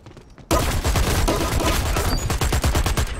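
Gunfire in the online shooter Dirty Bomb, a loud rapid burst of automatic shots in quick succession after a brief quieter moment.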